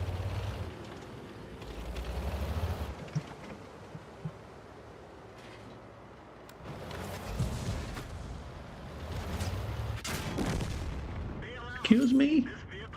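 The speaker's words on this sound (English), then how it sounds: "I saw an explosion." Video game battle sounds with low booming explosions and bursts of gunfire, rising and falling in several heavy rumbles over background noise, with a short whistling tone near the end.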